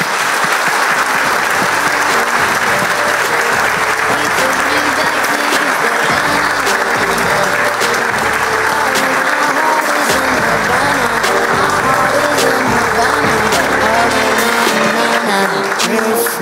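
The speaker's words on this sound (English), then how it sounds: "So please give a round of applause" Conference crowd gives a round of applause at the closing speech, loud and thick clapping that runs continuously without a break.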